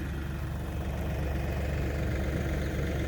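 A tractor engine idles with a steady, even rumble that stays unchanged throughout and is heard from close up inside the cab.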